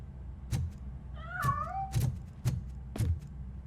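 A cat meows in a game world, RoboCop Rogue City: one drawn-out, wavering meow in the middle, with a few soft thumps and knocks before and after it.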